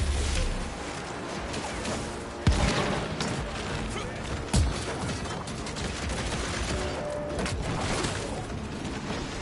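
Dense gunfire in the video game Evil West roars almost without pause, loud and close, with two heavier booming shots punching through the steady barrage.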